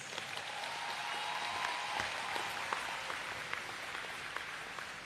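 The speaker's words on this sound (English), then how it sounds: "Round of applause for the graduands." Graduation ceremony audience applauding the graduands in a large hall, a steady, even wash of clapping from a crowd that carries through the whole stretch without letting up.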